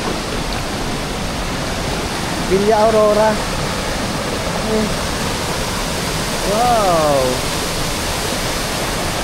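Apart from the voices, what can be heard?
Gabaldon Falls waterfall, running water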